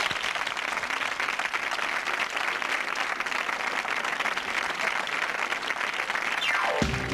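A TV studio audience gives a band a strong, dense round of applause, continuous and loud for several seconds before the band's music starts at the very end.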